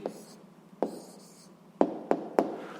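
Pen strokes scratch across paper as an answer is written in a sixth-grade maths exercise, a soft continuous scrape broken by a few sharp taps and strokes, close and quiet.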